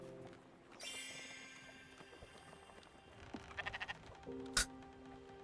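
In the video game Spiritfarer, a sheep bleats while having its wool sheared, a short drawn-out bleat at the start, then a burst of quick clicking shear snips and a sharp chime, all quiet against a soft musical backdrop.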